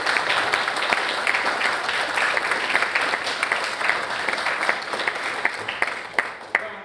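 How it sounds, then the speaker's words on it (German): Theatre audience applauding a composer-performer at a performance-and-science stage piece, a steady dense wash of clapping that stays loud throughout with a few sharper individual claps near the end. "Und das ist ihm vielleicht auch noch ein kleiner Applaus wert"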